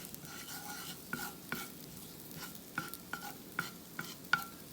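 Garlic sizzles quietly in olive oil in a cast iron frying pan, with a soft steady fry broken by sharp, irregular clicks and scrapes of a utensil stirring against the pan.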